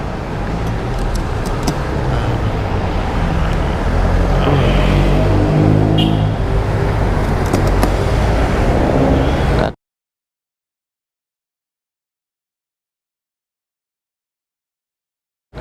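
Steady roar of road traffic and engine noise heard from a motorcycle taxi moving through congested streets, loud and continuous with wind rumble for about ten seconds before cutting abruptly to silence.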